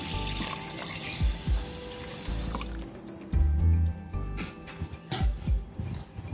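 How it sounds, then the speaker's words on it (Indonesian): Water poured from a container into a pot of washed, drained rice, giving soft splashing and gurgling bursts with a few louder pours and drips, close and fairly quiet. "Tambahkan air."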